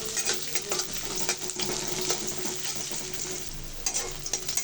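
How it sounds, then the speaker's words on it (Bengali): Chopped onion sizzles in hot oil in a wok with cinnamon and bay leaf, a steady close frying hiss broken by scraping stir strokes, no one talking. "দিব দারচিনি, তেজপাতা দিয়ে ভেজে নিব।"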